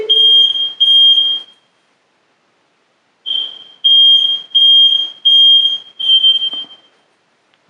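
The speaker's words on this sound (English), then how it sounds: "No, that's the fire alarm." A farmhouse fire alarm sounds in loud, piercing beep bursts, two at first, then a pause, then a rapid run of five more, with no talk over it.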